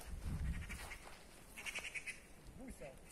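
Goats bleat a few times in short wavering calls amid outdoor background noise, with some low rumble early on.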